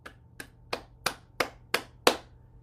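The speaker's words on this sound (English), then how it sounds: "now we'll clap" Seven sharp single claps ring out at a slow, even pace during a morning tapping and bouncing exercise, each crisp and isolated against a quiet room, growing slightly louder toward the end.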